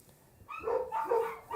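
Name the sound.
dogs barking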